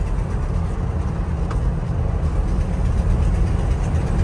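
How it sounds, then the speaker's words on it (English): A 1968 Ford F-250 Highboy 4x4 with a four-speed and a slight exhaust manifold leak runs with a steady, loud, low engine rumble that holds throughout, with no voices. "Sounds like it's got a slight exhaust leak from the manifold"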